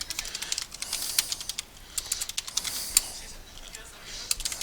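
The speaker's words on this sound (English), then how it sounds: "Don't judge my bad typing." Quick, uneven bursts of typing on a computer keyboard with irregular key clicks and short pauses, fairly close and moderately quiet.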